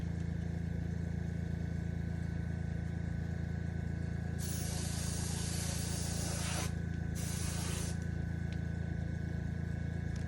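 An airbrush sprays paint onto a Bandai 1/500 Space Battleship Yamato plastic model in two bursts, a longer hiss then a shorter one, over a constant hum of a compressor or motor.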